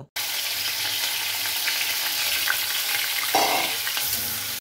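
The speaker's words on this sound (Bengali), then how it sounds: "আর এই তেলের মধ্যেই আমরা পেঁয়াজগুলো ভেজে নেব" Onions frying in hot oil for mutton biryani, in the same oil just used to fry potatoes: a steady, close, dense sizzle and crackle that runs without a break, with no voices.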